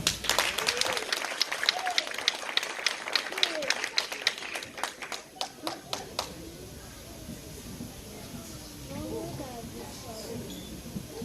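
Congregation at a Haitian church gathering clapping warmly for a man renewing his vows to his wife, a loud stream of quick rapid claps that fades after about six seconds as voices and murmurs carry on.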